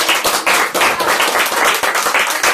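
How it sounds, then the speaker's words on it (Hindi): Loud, close clapping from an audience cheering a team during a Vestige presentation, a dense, energetic burst of hand claps with uneven pulses filling the whole moment. "ये हमारे वॉरियर्स टीम है, इनके लिए एक बार जोरदार तालियां।"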